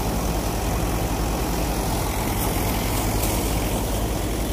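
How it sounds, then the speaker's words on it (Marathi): A tractor engine runs steadily during paddy threshing on a farm, a constant near drone with no breaks and no voices. "ट्रॅक्टर लागलेलं आहे."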